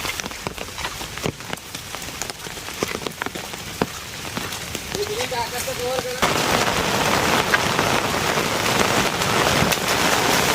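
Heavy rain patters and drums hard on a surface, growing denser and louder midway into a steady roaring downpour, with a faint voice early on.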